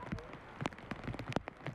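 Heavy rain pours down during a windstorm in the Portland area, a steady crackling patter of drops on surfaces with sharp close splashes, no voices.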